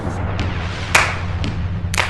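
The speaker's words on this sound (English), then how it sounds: "we're going for the stomp clap" Body percussion of stomps and claps, a few sharp hand claps spaced about half a second apart over low thumping stomps, close and dry, no voices.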